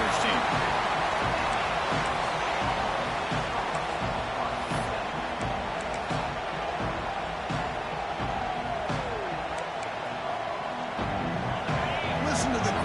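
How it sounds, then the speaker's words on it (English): A steady, dense roar of a large stadium crowd at an American football game fills the whole stretch, with a commentator's voice talking over it. "Listen to the crowd energy here in the early going"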